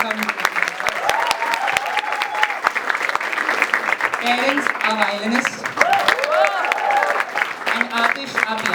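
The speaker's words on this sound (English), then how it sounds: "A huge round of applause." Audience applause and crowd clapping at a Christmas concert, loud and sustained throughout, with a presenter's voice speaking over it.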